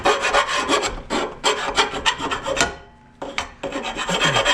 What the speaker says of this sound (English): So we're gonna file it and try and get all the edges.